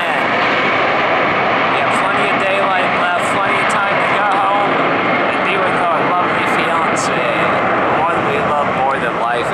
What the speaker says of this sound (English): But this is one of the airplanes we love more than life itself. Delta 72 Heavy.